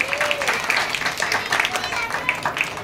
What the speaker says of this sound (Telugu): సరే చప్పట్లు కొట్టండి రా.